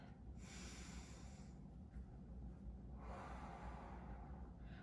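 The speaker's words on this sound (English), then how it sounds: "One more breath." A slow, deep breath during a youth basketball home workout, with a long airy inhale and then a drawn-out exhale close by, soft against a constant low background hum.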